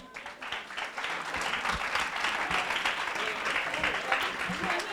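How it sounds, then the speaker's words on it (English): An audience at a music festival prize distribution and honoring ceremony in Nashville, Tennessee applauds steadily, a dense, even spell of clapping lasting throughout, with some voices underneath. "A big applause."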